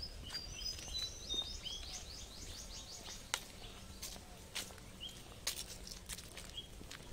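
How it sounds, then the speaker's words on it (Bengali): Birds chirp in a wooded bird sanctuary in Kolkata along a dirt path between trees, with a run of quick high tweets early on and scattered faint calls and light clicks in a quiet setting. "তোমরা পাখির আওয়াজটা শুনতে পাচ্ছ"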